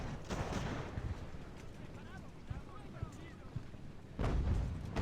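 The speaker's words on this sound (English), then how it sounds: "That must be mortars." Artillery and mortar fire from a naval battle in the Age of Sail strategy game: muffled booms and rumbling blasts over a continuous low roar, with louder thuds near the start and end and talk underneath.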